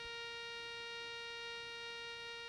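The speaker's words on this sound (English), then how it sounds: "It is recommended that the sound be adjusted at a threshold level where it is barely discernible when the detector is searching. It will sound like this." Steady faint threshold hum from a Garrett Scorpion gold metal detector set to a barely audible level while searching, a continuous even tone with no talk.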